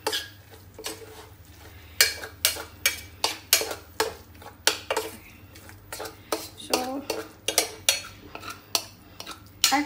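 Spice paste for Dhaba-style mughlai mutter paneer is mixed in a metal cooking vessel, with a run of loud, rhythmic spoon scrapes and clanks against the pot over a faint background sizzle, no speech.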